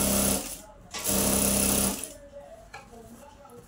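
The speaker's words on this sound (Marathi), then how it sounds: "सरळमध्ये भाग शिवून घेऊया" A sewing machine stitches a Navuvari saree in two close, loud bursts of rapid rhythmic chatter, followed by quieter fabric handling.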